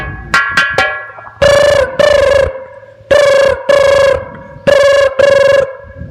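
A telephone rings on an outgoing call, a rapid burst of short tones followed by three pairs of long harmonic ring pulses with pauses between, clear and close with no talking.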